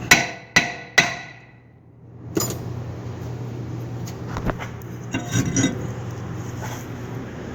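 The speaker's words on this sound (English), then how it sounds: "I want to tap on it" A hammer taps on the rear brake rotor of a 2011 Ford Explorer, three sharp metallic strikes up close, then a pause and fainter knocks and clinks of work on the rotor.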